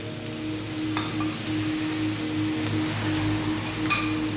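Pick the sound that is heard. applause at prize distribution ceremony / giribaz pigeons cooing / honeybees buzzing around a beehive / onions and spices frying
onions and spices frying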